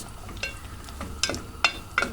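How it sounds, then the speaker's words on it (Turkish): Soft sizzling of chopped carrots frying in melted butter in a pan, with a few sharper scraping and stirring clicks, close by. "Tereyağımız da eridikten sonra küçük küçük doğradığımız havuçlarımızı ilave ediyoruz"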